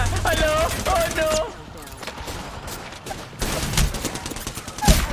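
Gunfire in Valorant on the map Stellar, sharp shots and bursts mixed with game effects, with people talking over the action.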